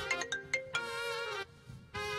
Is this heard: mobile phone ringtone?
yes